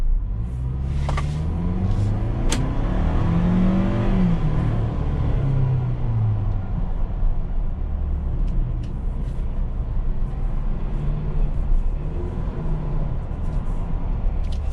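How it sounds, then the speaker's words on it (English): Ford Bronco accelerating hard on the street, with steady loud engine rumble and rising harmonics as it picks up speed, plus road and wind noise throughout and no talking. "All right, quick acceleration test."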